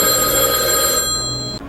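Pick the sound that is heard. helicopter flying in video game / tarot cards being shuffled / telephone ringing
telephone ringing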